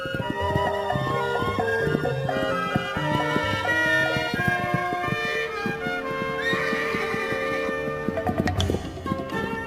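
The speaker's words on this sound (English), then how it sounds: "Stallions spar and court young mares in a drama as old as the hills." Wild mustang horses, stallions among young mares, neighing and whinnying with a faint clip-clop of hooves, heard beneath a continuous orchestral music score.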